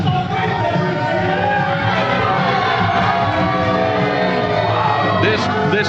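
Arena crowd at a grappling event jeering and shouting in displeasure at grappler Nick Hamrick, a loud dense roar of voices that holds steady throughout.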